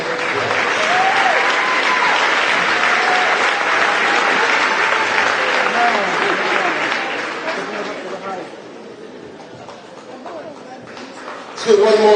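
Graduation audience applauding basketball players of the class of 2023, a dense sustained clapping that fills the first eight seconds, then thins and fades, with a fresh burst at the end and voices mixed in.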